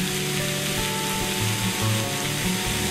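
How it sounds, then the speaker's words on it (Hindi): Onions frying on a high gas flame give a loud, continuous sizzle close by, with faint stirring scrapes mixed in and no voices. "प्याज को हमने तेज गैस रखी है भूनने के लिए।"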